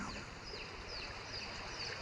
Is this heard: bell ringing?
no